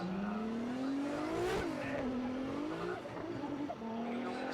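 A Toyota 86 drift car, car 938, revs hard and slides sideways at Fuji Speedway during Formula Drift Japan qualifying, engine note rising and falling with tire squeal, loud and continuous over about four seconds.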